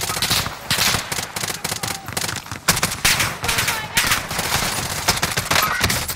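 Rapid automatic gunfire from Call of Duty: Warzone, with dense, loud bursts of shots running almost continuously over a few seconds, with only brief gaps between volleys.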